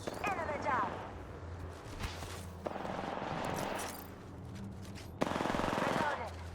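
Rapid bursts of automatic gunfire and single shots in the video game Apex Legends, close and sharp, with game voice callouts heard between them.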